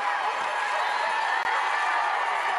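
A large crowd outside the church at the royal wedding of Zara Phillips and Mike Tindall, as Prince Andrew and Princesses Beatrice and Eugenie arrive, keeps up a steady, dense wash of cheering and excited noise without a break.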